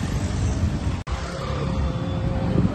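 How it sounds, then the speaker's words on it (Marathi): A car drives along with a steady low rumble of engine and road noise heard from inside, broken by a brief dropout near the start. "गाडी चालवतोय"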